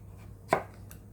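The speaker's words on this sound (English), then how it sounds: "just cutting it up into little cubes like that" A knife chops through pumpkin, cutting it into small cubes for pumpkin soup: one sharp, close chop stands out clearly, followed by a much fainter tap, against a quiet background.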